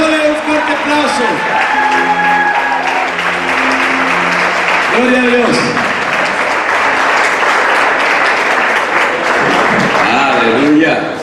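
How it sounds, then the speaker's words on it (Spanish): A church congregation bursts into loud, sustained applause that fills the room, with cheers and a voice calling out over the clapping. "Vamos, démosle un fuerte aplauso."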